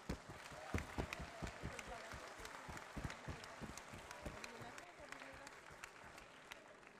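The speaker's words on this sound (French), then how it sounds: "On peut applaudir l'hymne allemand." A crowd at the opening ceremony of the 24 Heures de Saint-Jo 2024 applauds after the German anthem, a sustained patter of clapping with a few louder claps, heard from some distance at low level.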